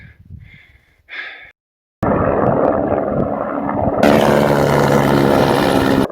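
After a few breathy sounds and a brief silence, a loud helicopter roar starts abruptly and grows louder and brighter as it comes in to land close overhead in Conejos County, Colorado.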